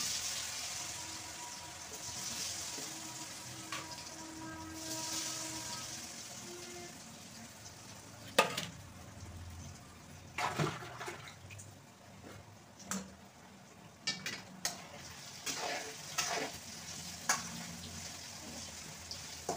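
Elephant foot yam pieces for a 65-style snack, spiced with chicken 65 powder, fry with a steady low sizzle in a pan while sharper scraping and stirring knocks break through intermittently in the second half, with no one speaking.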